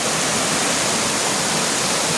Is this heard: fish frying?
no